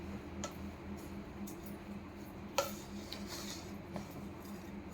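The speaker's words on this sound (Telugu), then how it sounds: "మళ్ళీ అంతా ఒకసారి కింద నుంచి గరిటతో మిక్స్ చేసేసుకోండి" A ladle mixes laddu mixture in a pot, giving faint, sparse scraping clicks and a few soft taps over a quiet background.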